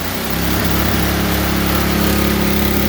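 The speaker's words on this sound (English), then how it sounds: "Great little snowblower." A Craftsman snow blower's small engine runs steadily close by, a loud even buzzing drone after a brief rise at the start, with no speech.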